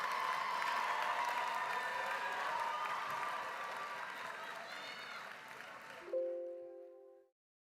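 A large crowd at a high school graduation ceremony applauds steadily and loudly, the dense clapping slowly fading before cutting off abruptly, with a brief tonal sound at the end.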